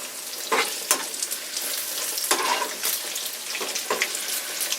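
Bacon sizzles in a hot cast iron skillet, a continuous bright crackling hiss punctuated by several sharp spits and pops, close up with no talking.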